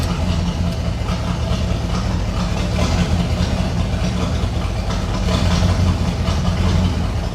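A 1989 Pontiac Trans Am GTA V8 idles steadily up close after being pulled from a junkyard, a loud continuous low rumble that hunts slightly as it runs, with no voices over it.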